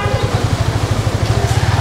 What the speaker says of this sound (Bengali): এখন 30 স্পিডে বাইকটা চলতেছে।